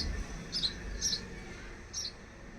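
Sparrows at a water feeder let out three short, high chirps spaced about half a second apart over a faint low background hum, no voices.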